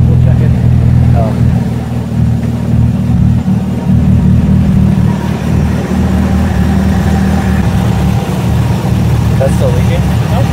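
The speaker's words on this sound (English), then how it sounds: "And it's idling really high." A Nissan 240SX with a DC header and a 3-inch catback exhaust idles high, a loud, steady mid-low engine rumble with slight fluctuations and voices nearby.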